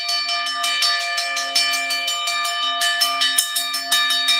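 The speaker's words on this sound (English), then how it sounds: "Love us this new bell." A new boxing ring bell, or a bright metallic bell, rings steadily with repeated sharp strikes at close range and no talk over it.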